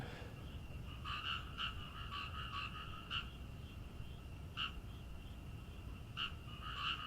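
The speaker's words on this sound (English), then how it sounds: "Man, hear those frogs." Frogs croak at night in a quiet outdoor setting, sending out short, faint, irregular calls that repeat every second or so over a low, soft background hiss.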